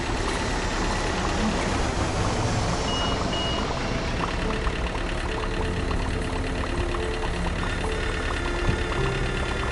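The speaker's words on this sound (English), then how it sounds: "like you can hear the backup alarm just fine" A forklift's backup alarm in the game Hypermarket Billionaire beeps steadily beneath a dense, constant wash of engine rumble and store noise, with no pauses for the whole stretch.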